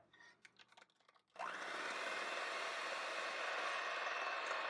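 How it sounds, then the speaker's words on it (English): Electric mixer blending flour into lavender cookie dough, starting abruptly after a few faint clicks and then holding a loud, steady, close whirring drone to the end. "Now start adding your flour and mix it well until it's all incorporated into a good cookie dough."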